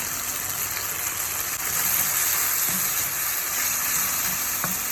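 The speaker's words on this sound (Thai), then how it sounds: "ผัดให้เข้ากันดีๆ ค่ะ" Macaroni cream sauce with tomato paste, chili sauce, pepper, parsley, mushrooms and cooking cream is stir-fried in a pan, giving a steady, close hiss and sizzle with faint scraping and no talk.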